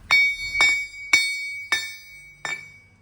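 A forged steel tractor gear is struck five times in a steady rhythm, each hit giving a bright, sustained bell-like ring that slowly fades, close and clear.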